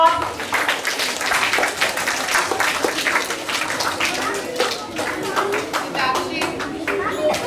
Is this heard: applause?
yes